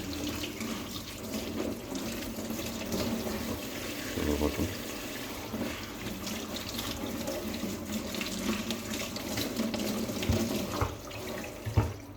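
Green olives are rinsed under a running kitchen tap, with a continuous rushing splash of water into a sink, close and steady, with occasional clatter as the olives are moved about.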